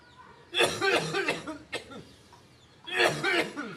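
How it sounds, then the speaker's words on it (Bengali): A person coughs in several harsh, close bursts, with a brief pause between coughing fits. "এবার আমার নিজেরই কাশি হইতেছে"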